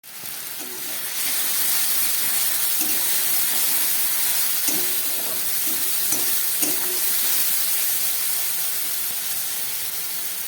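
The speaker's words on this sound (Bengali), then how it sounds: "পেঁয়াজ রসুনটা অনেকটাই ভাজা হয়ে গেছে" Chopped onion, two garlic cloves, three green and two dried chillies fry in a pan for a tangra fish curry, giving a steady, close hiss of sizzling oil with a few faint clinks throughout.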